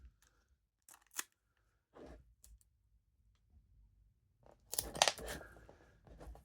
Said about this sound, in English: I will tape down all 4 corners